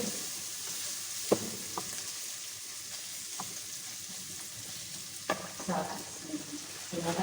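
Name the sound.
spices frying and being stirred in a pan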